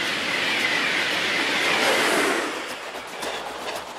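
A high-speed bullet train rushes past, a loud sustained roar of rail noise that swells and then slowly fades.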